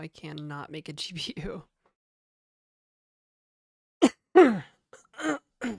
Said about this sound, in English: I literally coughed, but people think I sneeze.